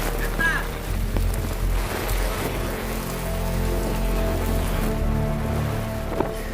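Heavy rain from Cyclone Michaung pours down over flooded Chennai in a dense, unbroken roar of drops, steady and loud throughout, with a voice faintly present beneath the downpour.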